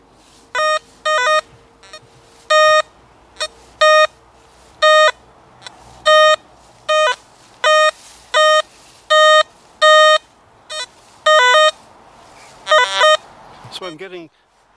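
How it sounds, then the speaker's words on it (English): A Garrett AT Max metal detector sweeping over iron gives a series of short, loud electronic beeps, some doubled, repeating irregularly over about fourteen seconds. Faint low background noise sits underneath. "I'm getting iron volume, and I'm getting double tone, and I'm getting a kind of a bleating sound"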